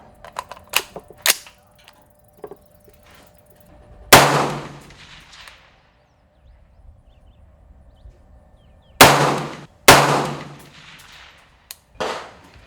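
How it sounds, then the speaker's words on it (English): Three gunshots fired one at a time at a target, loud sharp cracks with decaying echoes several seconds apart, along with a few fainter clicks and taps. "let's go ahead and shoot my 3-shot group"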